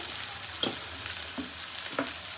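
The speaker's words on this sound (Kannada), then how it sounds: "ರಾತ್ರಿ ಮಿಕ್ಕಿರೋ ಅನ್ನನ ನಾನು ಇವಾಗ ಬಾಣಲಿ ಒಳಗೆ ಹಾಕ್ತಾಯಿದ್ದೀನಿ" Leftover rice tossed into a hot pan with tempering, giving a soft, even frying hiss with three brief stirring scrapes. It is fairly quiet and close, with no speech.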